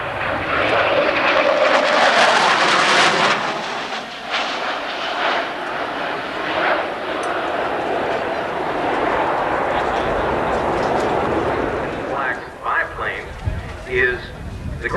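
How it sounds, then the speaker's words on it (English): Roaring engine of an FB-111 jet passing over an airshow crowd, loud and sustained at first, then easing back, with people talking throughout. "The FB-111, ladies and gentlemen."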